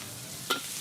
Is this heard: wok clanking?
yes